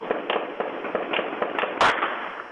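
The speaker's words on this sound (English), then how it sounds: "The gunshots you hear were recorded by a nearby security camera." Gunshots picked up outdoors by a security camera in Palm Springs: a rapid string of roughly a dozen sharp, distant cracks in an irregular burst, with one louder, broader blast near the end over a hissy background.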